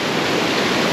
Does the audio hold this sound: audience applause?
no